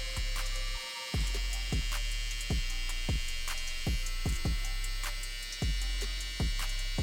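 An electric hair trimmer buzzes close up during a self haircut, a steady hum cut by short repeated strokes and clicks as it moves through the hair.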